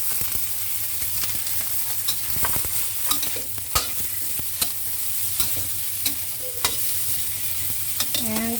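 Hairy melon with dried shrimps is stir-fried in a wok, with a steady close sizzle under repeated sharp clacks and scrapes of a spatula against the pan, and no one speaking.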